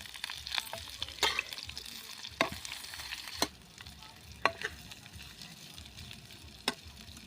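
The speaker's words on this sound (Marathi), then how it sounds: "कारलं मसाल्यांमध्ये छानपैकी मुरलं गेलं आहे आता टाकून घेऊया परतून घेऊया" Bitter gourd sautéing in spices in a pan, a steady low sizzle broken by scattered spatula taps and scrapes, close-up and without voices.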